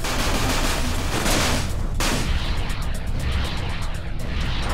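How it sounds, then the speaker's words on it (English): Missile fire and blasts in Everspace space combat, a dense, continuous barrage of loud bursts with a sharp crack near the two-second mark, filling the whole stretch without speech. "Eat the bloody missiles."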